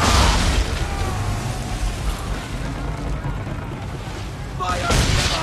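Ship cannons firing in a naval battle in Assassin's Creed III, heavy booming blasts at the start and again near the end over a dense rumbling battle din, with shouted voices.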